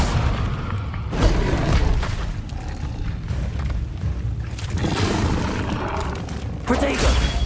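Heavy booming blasts from the Confringo spell in Hogwarts Legacy, a dense run of thuds and crashes amid chaotic combat noise, with a voice talking over part of it.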